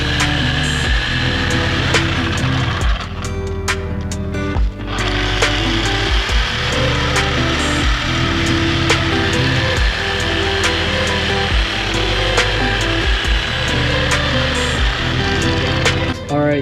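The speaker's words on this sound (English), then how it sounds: "Now we're going to be cutting out the sleeves inside of the subframe where the bushings sat" A saw fitted with a Milwaukee blade cuts the bushing sleeves out of a Nissan 240SX subframe, a loud and continuous rhythmic rasp with repeating strokes under ongoing machine noise.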